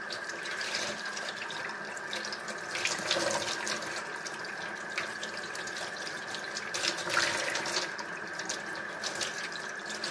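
Tap water runs steadily into a sink while makeup brushes are rinsed, a continuous close splashing hiss lasting throughout with no talking.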